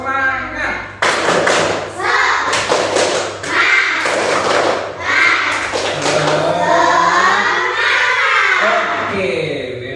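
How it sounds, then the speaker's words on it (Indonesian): A classroom group performs a rhythmic clapping chant, with bursts of sharp claps in patterns mixed with children's shouting voices, fairly loud and close. "coba 1, 2, 3 tepuk semangat"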